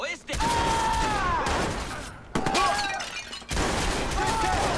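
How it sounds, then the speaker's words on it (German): Bursts of rapid gunfire in the video game Watch Dogs crackle loudly in several waves, mixed with shouting voices and chaotic battle noise. "Schüsse!"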